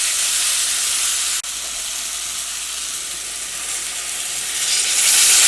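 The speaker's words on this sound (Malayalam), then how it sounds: "ഇനി ഞാനിതിലേക്ക് ഒരു 1/2 ഗ്ലാസ് വെള്ളം കൂടിയിട്ട് ചേർക്കുന്നുണ്ട്." Water splashes into a hot pan of frying tomato and drumstick in a home kitchen, a steady loud sizzle and hiss that swells toward the end, with no voices.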